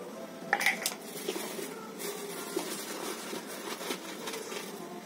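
Coriander seeds tumble into a hot kadai, a close series of rattling clinks and metallic scrapes against the pan with a soft hiss throughout.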